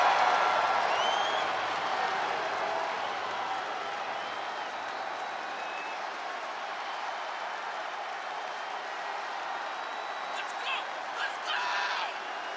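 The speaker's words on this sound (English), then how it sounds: "Listen to that crowd." A large video game wrestling crowd roars and cheers continuously, a broad sustained wash of noise that eases slightly after the first couple of seconds.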